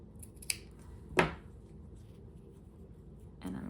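Scissors trim the ends of a thick ribbon on a handmade farmhouse mini album, two or three short, crisp snips close by, with light rustling of paper and ribbon between them and no speech.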